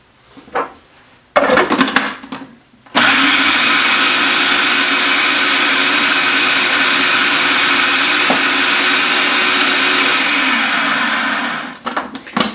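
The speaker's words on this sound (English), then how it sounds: "I cut the mixing time way down so you're not sitting there just watching it blend" A countertop blender whirs loudly and steadily for about nine seconds as it purees roasted beet hummus, after a few short knocks and bursts at the start, then winds down near the end.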